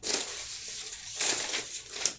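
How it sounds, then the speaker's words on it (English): A deck of cards is shuffled up close in two bursts of papery riffling and crinkling, with a short pause between them and no talking. "I did shuffle it earlier, but I'll shuffle it again."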